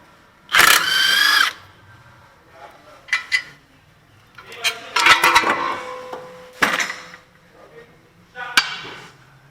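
An impact wrench loosens tight 19 mm bolts on a Honda axle, firing several short, loud rattling bursts close up, with metallic clinks of tools and parts between them.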